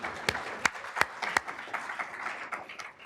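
A brief round of clapping from a conference audience at a climate summit, with a few loud, distinct claps over a softer wash of scattered hands, short and moderately close.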